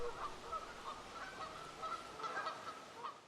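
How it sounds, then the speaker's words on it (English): Geese honking repeatedly at Lake Lenexa, a steady chorus of overlapping calls from a flock at middle distance over faint outdoor ambience. "and plenty of geese to keep you company."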